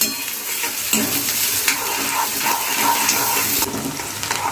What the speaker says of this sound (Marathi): आपल्याला इथे जी कढीपत्ता आहे ती घालायची आहे चांगलं फ्राय करून घेऊया